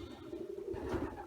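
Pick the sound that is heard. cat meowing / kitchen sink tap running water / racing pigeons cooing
racing pigeons cooing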